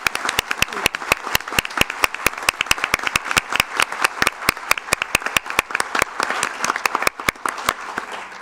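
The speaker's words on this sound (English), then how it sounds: "let's give a round of applause to everyone who has made a sacrifice and served" Steady, dense applause from a town council meeting audience honoring veterans, many sharp hand claps filling the room at a constant loud level throughout.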